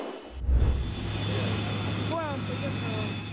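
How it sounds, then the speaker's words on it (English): Beriev Be-200 amphibious aircraft engines at takeoff, a steady, loud jet roar with a deep low rumble and a thump near the start, joined partway through by faint whistling, warbling tones. "The BE-200 is one of the most powerful amphibious aircrafts in the world."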